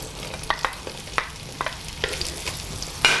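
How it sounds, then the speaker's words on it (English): Onions sizzling and frying in oil in a hot wok, with a steady crackle and occasional scraping stirs, close up and without any talking. "You're waiting to hear it sizzle, and then you know your pan is hot enough."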